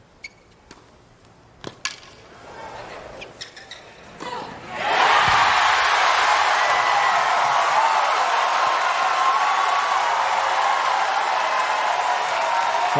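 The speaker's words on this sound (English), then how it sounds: "with the sound of the crowd, just applies that little different dynamic for Tauson" A large tennis crowd in the US Open grandstand, at a 2025 first-round women's match between Eala and Tauson, bursts into loud, sustained cheering and applause after a few seconds of sparse claps and quiet murmur.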